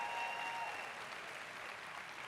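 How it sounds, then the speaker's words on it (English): Applause from an outdoor concert audience at SummerStage in Central Park, a brief stretch of steady, fairly faint clapping with a faint tone fading out early. "an applause for the staff of the Green Space"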